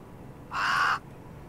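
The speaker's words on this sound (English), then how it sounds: "That's my pet raven, Hubris." A pet raven in a video game gives a single harsh caw lasting under half a second, clear and close against a faint background hum.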